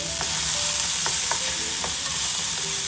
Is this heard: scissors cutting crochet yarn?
no